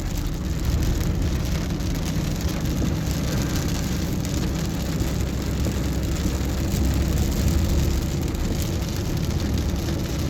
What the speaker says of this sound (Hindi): जी गाइस ये बारिश हो रही है फील्ड सिटी में